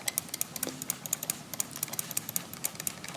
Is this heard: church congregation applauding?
no